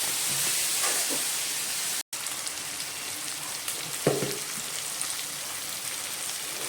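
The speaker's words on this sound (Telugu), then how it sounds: "రొయ్యలు వేగనివ్వాలి" Prawns frying in a pan give a steady, rain-like hiss and crackle at moderate level, with one brief dropout and a soft utensil knock partway through; no one speaks.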